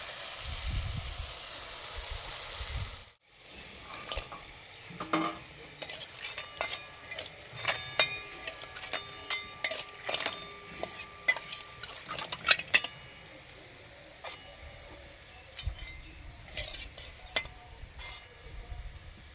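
Jalebi frying in hot oil: a steady close sizzle runs throughout, broken by sharp clinks and scrapes of a utensil against the pan, with no voices.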